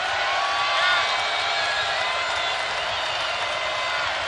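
A college basketball arena crowd roars in a steady, loud wash of cheering and whooping during a UCLA Bruins game, with faint whistle-like squeaks over it.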